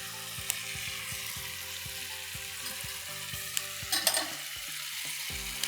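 Ghee poured onto hot coal set on foil in the middle of a dish for barbecue smoke flavor, a steady close sizzle with crackling pops over a faint background hum, no voices.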